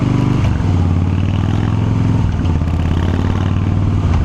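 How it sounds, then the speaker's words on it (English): Harley-Davidson Softail motorcycle with a big engine, heard while riding: a loud, steady, deep engine rumble close up, with the pitch dropping and settling as the rider shifts through gears, plus some wind noise over it. "the Softail Harley with the big engine"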